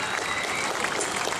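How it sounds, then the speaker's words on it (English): Audience applause at a hairy chest contest on a Carnival cruise ship, a steady dense wash of clapping that holds at an even level throughout. "Give them a big round of applause, everybody, as they leave the staging area"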